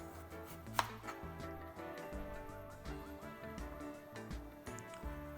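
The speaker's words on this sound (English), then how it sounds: "I'm going to turn them on their side and just cut them into cubes" A knife cuts a carrot into small cubes on a cutting board, giving a quick, steady run of close chopping taps, with no voices.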